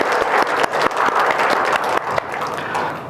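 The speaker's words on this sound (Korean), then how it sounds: "이곳에 불러주신 하나님께 영광의 박수 올려드리겠습니다" A church congregation at Cheorwon Manna Church gives a round of applause to glorify God, a dense, steady wash of many hands clapping close and loud for about three seconds, with a few sharper individual claps standing out.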